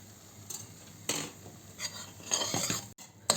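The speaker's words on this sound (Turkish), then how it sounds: "Ara ara yan taraftaki sütümüzün karıştıralım." Milk being stirred in a pot with a spoon, heard as a steady, close scraping and clinking of utensil against the pot with a few sharper knocks, alone and with no voices.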